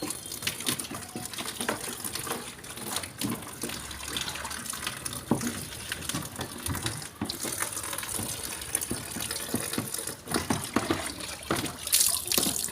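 Tap water pours steadily into a sink while fish are washed under an outdoor faucet, a continuous splashing gush with occasional clatter and no voices.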